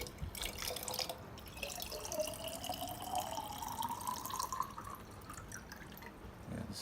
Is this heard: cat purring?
no